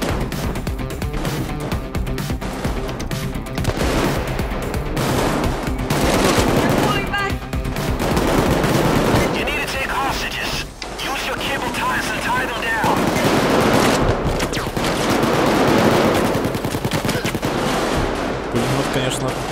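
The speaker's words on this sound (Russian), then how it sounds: "Пулемет, конечно, подавляет сильно," Heavy machine gun fire in the co-op heist shooter Payday 2, dense bursts of gunshots crackling almost without pause across the whole stretch, loud and close amid a chaotic firefight.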